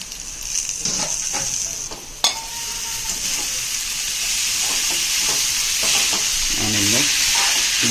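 Chopped tomato frying in a hot pan, a bright steady sizzle with repeated scraping stirs and a sharp clatter of the spoon against the pan near the middle.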